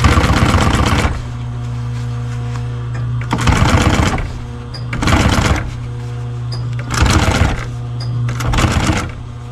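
A sewing machine stitches a motorcycle seat cover for a 2003 Yamaha YZ450F in several loud, close bursts at full speed, separated by pauses where a low motor hum lingers.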